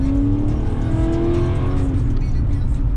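A car engine with a straight pipe exhaust, steady and loud throughout, with a rising tone that sounds like revving, with no talk over it.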